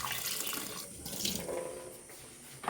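Tap water runs and splashes into a bowl in a sink as the rinse water for bitter gourd shoots is changed, a soft continuous gush close by.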